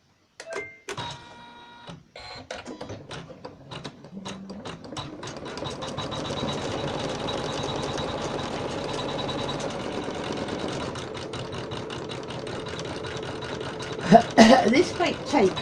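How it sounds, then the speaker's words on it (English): An embroidery machine stitches a name onto a fabric bed runner, its rapid, rhythmic needle clatter starting in brief bursts then settling into a steady run, with someone talking quietly throughout. "I am now going to stitch out my husband's name here."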